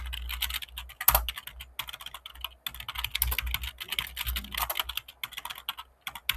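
Code being typed on a computer keyboard, a fast irregular run of close, crisp key clicks with brief pauses between bursts, lasting several seconds with no voices.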